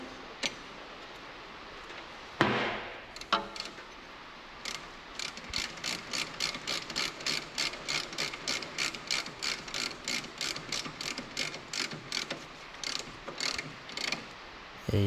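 Small brake caliper bolts on a Ford Transit Custom being tightened with a ratchet: a steady string of crisp, close clicks in a regular rhythm after a couple of clanks, quiet and without speech.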